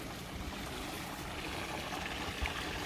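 A small stream flows in steady broadband rushing and gurgling, constant and moderately quiet throughout, with no voices.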